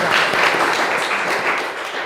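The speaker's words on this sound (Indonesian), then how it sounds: "Tepuk tangan dong buat kelompok" A classroom group applauding student group 3, dense overlapping hand claps at moderate volume in a roomy space, fading slightly toward the end.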